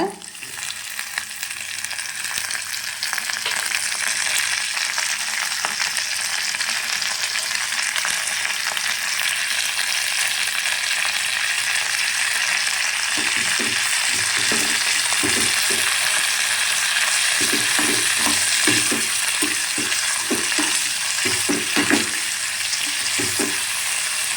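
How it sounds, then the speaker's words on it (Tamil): False daisy (karisalankanni) greens and urad dal sauté in hot oil, giving a steady, loud, close sizzle that runs without a break, with occasional soft stirring scrapes. "நல்லா உளுத்த பருப்பு பொன்னிறமாக வதங்கினதும் கீரையை போட்டு வதக்கி எடுத்துக்க வேண்டியதுதான்"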